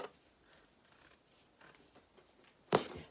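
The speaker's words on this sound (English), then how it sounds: "I'm just going to trim away some of this excess fabric from the edge of my ham." Scissors trimming excess fabric from the edge of a sewn tailor's ham: faint rustling handling, then one sharp, close snip near the end.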